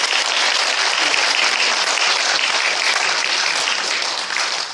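An audience at a National Assembly ceremony for the 100th anniversary of the March 1st Movement breaks into loud, sustained applause, a thick, even wash of clapping that holds steady before easing slightly at the end.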